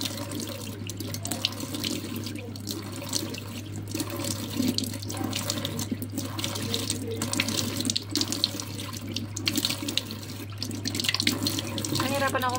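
A tap runs into a sink while a face is rinsed, a steady close rush of water with splashy bursts and slight shifts as hands move through the stream, alongside a constant low hum.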